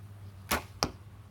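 Two arrows loosed from an archery bow, each a sharp, quick whoosh-and-thwack burst, the second following about a third of a second after the first, set against a quiet outdoor backdrop with a faint low hum.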